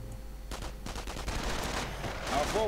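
Sniper and rifle gunfire in a World War II real-time strategy battle, a rapid series of sharp, fairly faint shots crackling in bursts with someone talking over them.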